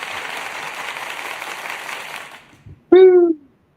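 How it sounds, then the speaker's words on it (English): A canned applause sound effect plays at moderate volume as a steady crowd-clapping wash for about two and a half seconds, then cuts off. A short, loud vocal whoop follows. "Let's get a little round of applause from me."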